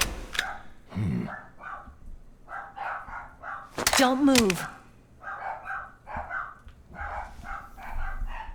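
Dogs barking in short yapping bursts, loud and close, mixed with someone talking nearby.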